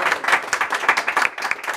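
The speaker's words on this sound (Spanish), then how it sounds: "¡Fuerte ese aplauso!" A small gathering applauds after a mariachi birthday serenade. The clapping is close, steady and lively, with dense overlapping hand claps filling the whole moment.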